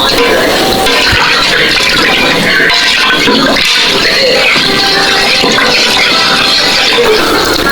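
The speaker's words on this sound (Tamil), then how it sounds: "தண்ணி இதுக்கு நல்லா சிக்கன் மூழ்கிற அளவுக்கு தண்ணி ஊற்றிக்கொள்ளுங்க." Water pours steadily and loudly into a pot of country chicken for rasam close by, a continuous splashing rush that lasts throughout without pause.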